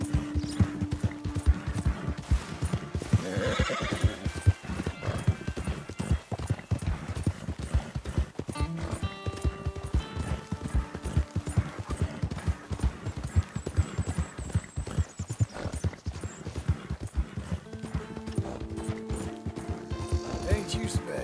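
Steady clip-clop of horse hooves in Red Dead Redemption 2, with mechanical tack rattles and a short whinny, a continuous close rhythmic trot with faint background music.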